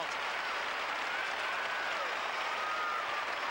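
Sustained applause from a home crowd in a large arena after a Yurchenko layout full twist vault at a women's team gymnastics competition, steady and dense throughout with no pauses.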